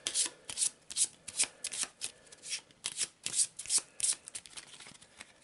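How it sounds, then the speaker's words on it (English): A deck of board game cards for Arkham Horror is shuffled by hand, with repeated quick riffling bursts in an uneven rhythm, close and crisp, with no talking. "So I'll give it a quick shuffle."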